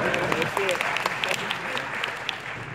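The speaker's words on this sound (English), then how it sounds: "You can clap for that." Audience clapping at the MLK Unity Breakfast in Birmingham, a steady patter of many hands filling a large hall, with a voice or two faintly audible under it.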